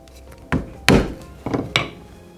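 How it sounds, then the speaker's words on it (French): A round leather punch striking through leather while cutting a knife sheath with a Celtic motif, giving four separate sharp thuds, fairly close and loud, with quiet pauses between them. "Donc je termine ici avec un emporte-pièce rond pour limiter ce phénomène de déchirement."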